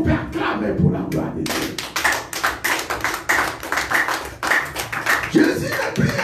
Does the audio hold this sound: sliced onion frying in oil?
no